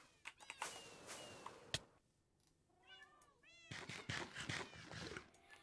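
Minecraft cats meow in two clusters of rising, wavering calls, separated by clicky game sounds and sharp knocks, at moderate loudness.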